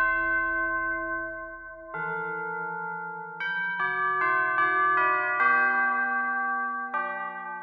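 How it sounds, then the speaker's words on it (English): Orchestral chimes played via MIDI in Logic with a VSL sample library ring out as a series of bright, sustained bell tones, each new strike overlapping the lingering decay of the last, in a slow ascending and shifting melody. "Okay, and then chimes."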